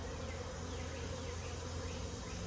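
Honey bees fly around a Layens hive, their dense, steady buzzing droning close by without a break.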